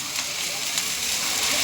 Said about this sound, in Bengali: সবে মশলা কষানো হচ্ছে